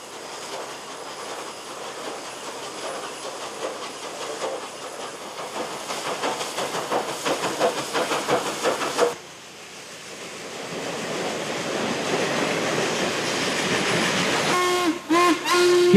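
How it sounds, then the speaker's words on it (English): A Norfolk and Western Class A steam locomotive hauls a high-speed mixed merchandise train up a mountain grade in Virginia, its steady rapid chuffing and rolling rumble loud and continuous, with a brief whistle-like tone near the end. "Here an A takes a high-speed mixed merchandise train up the Virginia mountains."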